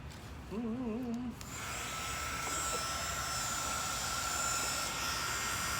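A heat tool blows a steady, loud whoosh with a high whine while warming artificial flowers for a Halloween arrangement, running continuously after a brief wavering tone at the start.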